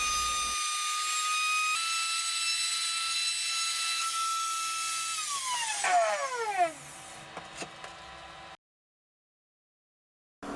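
A wood router cuts out letters in a wooden sign with a high, steady whine, then the pitch sweeps down as the motor winds off, followed by a few light clicks and silence.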